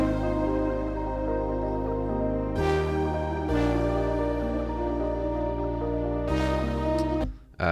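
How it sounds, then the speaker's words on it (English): Ambient melody layer in an electronic pop production, a dense sustained synth wash over deep bass, with chord changes every few seconds and a brief dropout near the end, loud and continuous with no voices. "on top of that we have like some sort of ambience melody"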